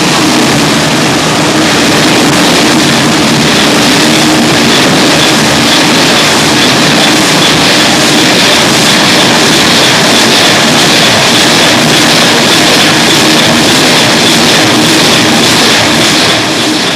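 A diamond-blade gang saw with 70 blades cuts 1-inch yellow Jura marble slabs at 100 strokes per minute. It makes a loud, continuous, rhythmic grinding roar with a steady mechanical clatter throughout.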